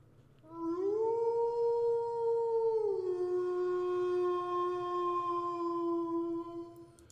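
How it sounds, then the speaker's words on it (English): A distant wolf howl sound effect: one long, lingering call that rises, holds and drops to a lower sustained tone, fading out after about six seconds, alone with no talk. "So it's a lingering howl,"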